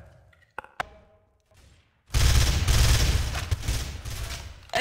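Rapid video game gunfire in Garry's Mod on a Jailbreak server, a dense loud volley that starts abruptly midway and keeps going, after a quieter opening with a few isolated taps.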